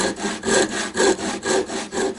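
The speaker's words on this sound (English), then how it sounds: "And we start again with our wood rasp." A wood rasp files a wooden chess knight in steady back-and-forth strokes, about five even rasping passes that sound loud, close and rhythmic, with no talking.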